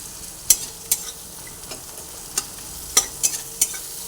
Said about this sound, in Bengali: একসঙ্গে মশলাটার সঙ্গে টমেটোটাও ভেজে নিচ্ছি